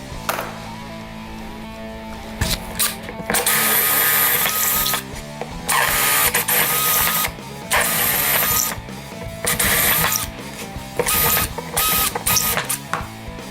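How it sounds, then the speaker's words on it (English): A drill bores four holes into a homemade CNC router's Y axis part, running in loud bursts that start and stop, with short quiet gaps between the cuts. "I'll drill these 4 holes"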